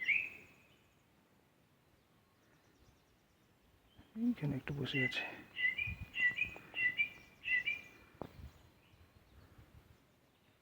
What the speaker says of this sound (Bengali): কিন্তু এখানে প্রচুর পাখি।